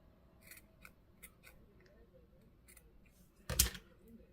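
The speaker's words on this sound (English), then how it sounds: "I'm just gonna trim these down so they're not all different length" Scissors trim small pieces of miniature Halloween masks in a quiet room. A few soft, scattered snips come first, then one louder, close, crisp cut near the end.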